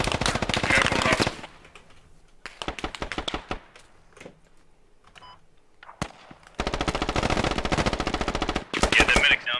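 Automatic gunfire from the video game Squad rattles in long, dense bursts at the start and end, with scattered single shots and quieter gaps between.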